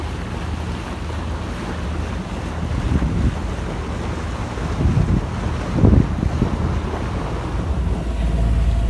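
A sailboat under way through the narrow Corinth Canal, with steady wind rumble and water wash against the hull, plus a few louder swells of splashing and gusts.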